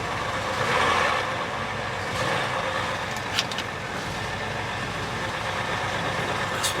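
An old GM V8 engine runs rough near stalling, a steady low rumble with slight surges in level, heard up close with no talking.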